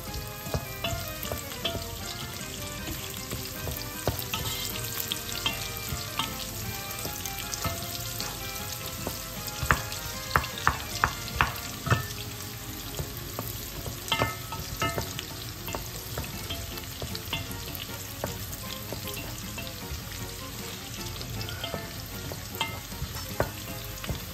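Onion and garlic sauté in a pan, the base for pork and mung bean soup. A steady, dense sizzle holds throughout, with scattered sharp crackles and the clink of stirring, close up and without speech.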